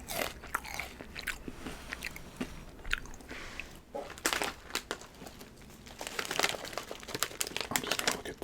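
Crunchy Vitner's Hot Crunchy Kurls being bitten and chewed close to the mic, with sharp crisp crunches and bag crinkling repeating irregularly, quiet and intimate, no talking.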